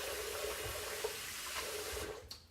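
Running water rinses styptic off after shaving with a stainless razor blade, a steady close hiss of tap flow that carries on evenly and tapers off at the end.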